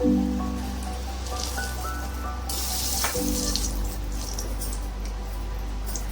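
Eggplant frying in hot oil in a pan on a gas stove gives off a steady, close, hissing sizzle with a low hum underneath, continuing evenly throughout.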